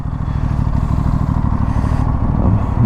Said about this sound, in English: the quality of sound which this exhaust is giving